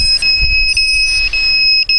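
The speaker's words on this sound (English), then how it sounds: "You can see how it's kind of an annoying beep here. Always beeping." A JJRC JJPRO P175 FPV race drone's battery warning emits a high, steady electronic beeping tone that repeats continuously with brief dips, persistent and piercing, over a low background rumble.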